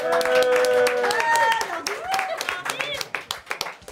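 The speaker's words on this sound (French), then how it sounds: "Nordine, applaudissements" Audience clapping rings out in sharp, uneven bursts, mixed with voices and a sustained chanted or sung tone, the claps thinning into scattered hits toward the end.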